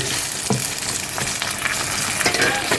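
Steady, loud sizzling of chicken frying in a pan with mint leaves, with occasional scraping stirs breaking through the constant crackle.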